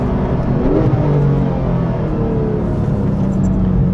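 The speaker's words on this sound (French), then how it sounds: "Ah, le son moteur du flat 6, c'est quand même quelque chose qui te met le sourire." Flat-six engine of a Porsche 911 GT3 (991.1), a loud, steady rumble heard from inside the car with rising and falling harmonic tones as revs shift, alone without talk.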